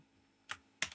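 Two crisp keystrokes on a computer keyboard, close and distinct, while a command is typed in quiet surroundings.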